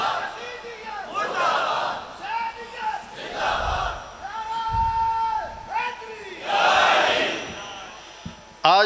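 A large crowd at a religious conference in Rajowal chants slogans in unison, loud bellowed call-and-response shouts in rhythmic bursts, each drawn-out cry rising together and then breaking off, close and forceful with a brief thump at the end.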